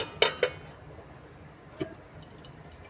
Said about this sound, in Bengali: ঢাকনা চাপিয়ে দিচ্ছি